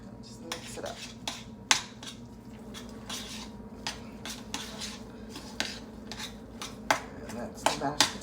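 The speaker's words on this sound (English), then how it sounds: "just mix it up" A spoon scrapes and clanks against a metal pot while mashed potatoes seasoned with pepper are mixed, giving repeated close metallic knocks over a soft squishy stirring noise.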